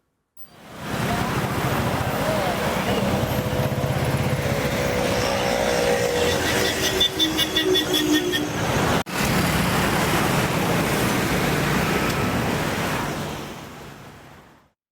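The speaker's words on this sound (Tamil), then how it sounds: "ஈசிஆர் சாலையில் கடுமையான போக்குவரத்து நெரிசல் ஏற்பட்டுள்ளது" Heavy road traffic on East Coast Road in Chennai makes a continuous loud wash of engines and tyre roar, with a passing horn and a brief dropout midway before the noise fades out.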